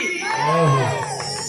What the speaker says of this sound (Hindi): और एक बार जोरदार जयकारा लगा में।